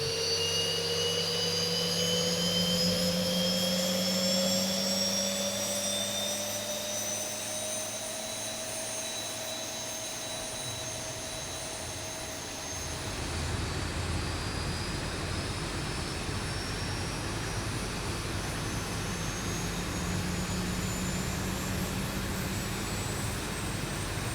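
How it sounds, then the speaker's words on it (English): Engine number one of a Boeing 737NG spools up in the X-Plane flight simulator, a steady jet whine with tones climbing slowly in pitch, then a shift midway to a broader roar as the start continues. "let's go ahead and start engine number 1"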